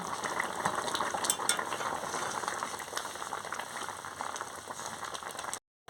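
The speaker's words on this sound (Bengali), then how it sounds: "এবার আমি চিংড়ি মাছটা দিয়ে দিচ্ছি, দিয়ে ভালো করে নাড়িয়ে নিচ্ছি।" Shrimp are stirred into a pot of spinach and taro over a stove, giving a faint, steady bubbling sizzle with soft scraping, and the sound drops out abruptly just before the end.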